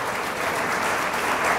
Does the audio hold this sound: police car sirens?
no